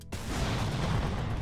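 Loud, sustained explosive roar in the Roblox game Super Hero Tycoon, bursting in after a brief silence and rumbling steadily with dense crackle throughout.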